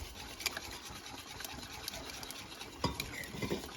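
Bacon being stirred into a cheese sauce for mac and cheese, giving soft, faint scraping and clinking of a utensil against the pot, with a few sharper knocks over a low background hiss.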